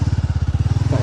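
A motorcycle rides over hard dirt ground, its engine thumping in a fast, steady pulsing rhythm, loud and close, with no voices over it.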